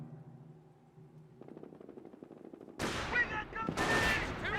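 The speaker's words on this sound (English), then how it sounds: "Jeep's taking some fire from these Panzer Grenadiers." Gunfire in the World War II strategy game Company of Heroes, with a jeep under fire from Panzer Grenadiers armed with G43 rifles; quiet at first, then bursts of loud rattling shots in the last seconds.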